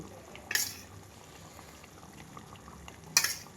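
A Kundapura-style egg masala curry bubbles in a pot with a soft, steady simmer, broken by two brief, sharper sputters near the start and end.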